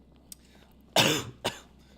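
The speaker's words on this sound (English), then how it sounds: "sorry, this cough has been bothering me a bit." Two close coughs, one harsh and one shorter, after a faint click, in a quiet room.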